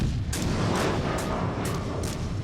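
Naval gunfire from a cruiser in the World of Warships: Legends game, a sustained low rumble punctuated by four sharp bursts at roughly half-second intervals, loud and close with no talk.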